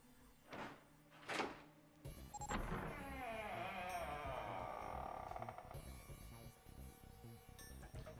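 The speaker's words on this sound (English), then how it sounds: "Door number 9 opened at last. It opened with a low, powerful rumble, a drumroll to welcome the chosen few." A sliding door in the video game 999 rumbles open after two short knocks, a low powerful drone that swells and holds for several seconds before easing off, loud and close.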